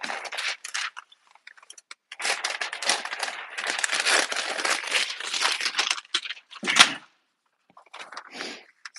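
A sheet of paper is handled and crinkled up close in irregular crackling bursts, with short pauses and a sharper rustle near the end.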